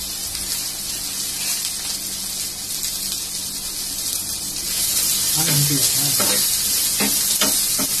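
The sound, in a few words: dosa batter sizzling on a hot pan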